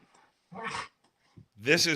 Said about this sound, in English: I'm loving this background noise of your dogs going batshit crazy back there.